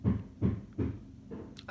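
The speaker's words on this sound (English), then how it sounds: "I'm hearing a knocking" A dull knocking comes as four evenly spaced low thuds, fairly quiet and close, followed by a couple of faint light clicks.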